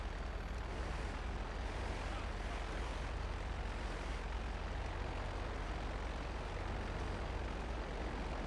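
A plane in flight in GTA Online gives a steady, fairly quiet engine drone with broadband rumble that holds unchanged throughout, with no clear talk.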